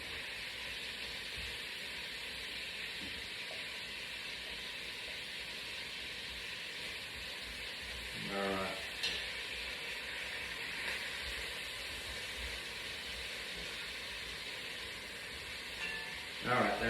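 Garlic sizzling in a pan, a steady, fairly faint hiss of frying that runs throughout, with a few brief clattering stirs and knocks.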